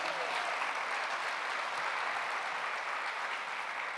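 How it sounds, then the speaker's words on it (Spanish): A church congregation applauds in worship, a full, even wash of many hands clapping at once, sustained without pause and heard from some distance in a large room. "dele un fuerte aplauso al Señor Jesús"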